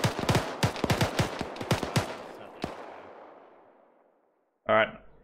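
Rapid bursts of automatic gunfire in a military co-op shooter game (Zeus coop mission), a dense volley of close shots over the first three seconds trailing into a reverberant echo, then one short later burst.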